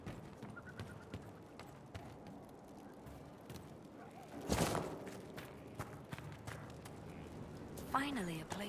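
Horse hooves clip-clopping in the video game Dragon Age: Inquisition, a soft, irregular walking rhythm under faint background ambience, with a brief louder burst midway.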